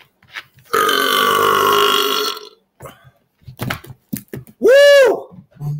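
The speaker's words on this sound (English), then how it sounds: "Just infinite burps, man, all day." A loud, long, drawn-out human belch lasts nearly two seconds, followed by a few short vocal sounds and a brief tonal, warbling burp.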